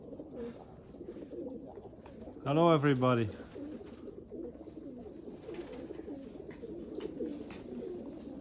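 Racing pigeons in a loft coo softly and continuously in the background, with someone briefly speaking over the low, repeating murmurs.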